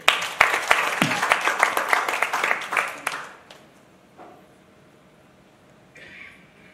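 A church congregation bursts into loud, brisk applause that slowly thins and dies out after about three seconds, leaving a quiet room and a faint, brief murmur near the end.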